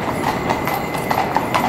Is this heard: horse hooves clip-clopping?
yes